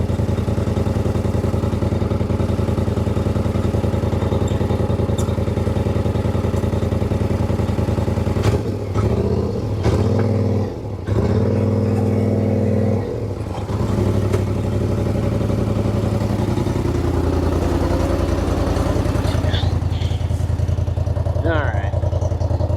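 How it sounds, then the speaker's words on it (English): A truck engine shifted into four-wheel drive on gravel, a steady loud mid-pitched rumble with a clattering undertone throughout and brief dips and revving changes midway, close by, with voices talking now and then. "I'm going to put it in 4-wheel drive so we're not peeling out the gravel."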